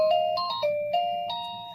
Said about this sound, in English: there is a victory bell that is rung at CompassCare, and it sounds something like this.